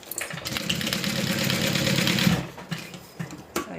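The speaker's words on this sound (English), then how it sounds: "you're sewing through your craft text" A sewing machine stitches steadily through craft tex stiffening for a zip-around wallet, a close, continuous motor whir that runs about two and a half seconds, then stops, leaving a few short handling clicks and bumps.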